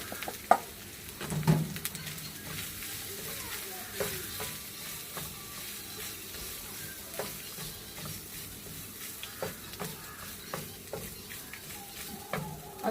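Grated coconut fries in a pan with turmeric and popped mustard seeds for a spring onion thoran: a soft, steady sizzle broken by frequent scraping stirs and light clinks, quiet and close.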